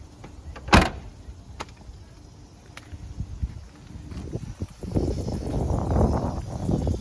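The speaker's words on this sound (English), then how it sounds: "So this door closes first, and then this one." Camper van doors being shut in turn, a sharp loud slam followed by lighter knocks and latch clicks, then shuffling, handling and rustling noises close by.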